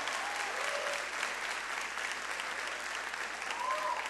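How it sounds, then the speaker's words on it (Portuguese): A church congregation gives sustained applause at a Brazilian worship service, a dense, even wash of clapping from many people at moderate distance, with faint voices calling out briefly over it. "Dê para Jesus um forte aplauso."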